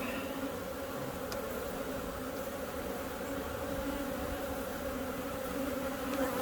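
Honey bees in an open, healthy hive during a spring inspection, with a dense, continuous close buzzing drone that holds steady throughout, with no voices.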